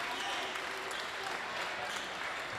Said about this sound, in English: Going to get a round of applause.